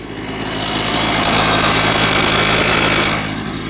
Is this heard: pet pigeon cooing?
no